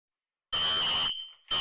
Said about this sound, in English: So automatically you hear the fire alarm going off.